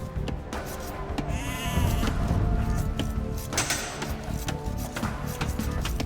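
Sheep bleat in Age of Empires II, a clear wavering bleat in the middle of a bed of game sounds with light taps and clicks around it.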